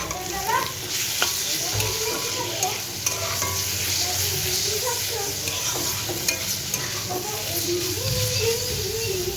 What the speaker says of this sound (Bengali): সবজিগুলো একটু হালকা হালকা ভাজা হয়ে এসেছে